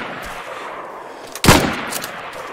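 A single loud gunshot in a multiplayer shooter video game, a sharp blast with a short echoing tail after a quiet stretch.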